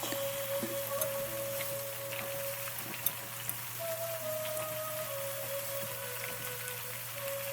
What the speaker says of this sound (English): This process of rendering out the fragrance from the spring onions will take about 15 to 20 minutes.